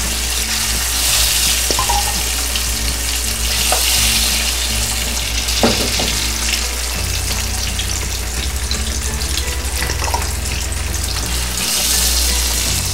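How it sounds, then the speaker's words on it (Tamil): Chicken pieces frying in hot oil crackle and sizzle loudly and close by, with occasional clinks and stirring scrapes over the steady hiss and no talking. "இந்த எண்ணெயிலேயே நம்ம பொறிச்சி எடுக்கிறோம்."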